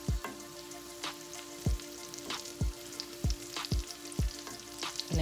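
Lamb chops sear in a hot pan while being basted with oil flavoured with rosemary, thyme and fresh garlic. A steady sizzle runs throughout, broken by a regular series of sharp clacks as the pan is tipped, with no talking.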